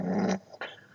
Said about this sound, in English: the dog growling for a minute